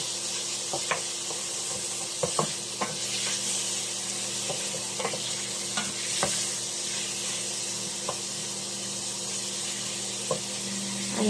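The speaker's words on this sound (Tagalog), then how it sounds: "Tapos lagayin natin yung ating mamoy, ating pork belly." Pork belly frying in a pan gives off a steady, close sizzle with scattered sharp crackles and pops throughout, and no one speaks.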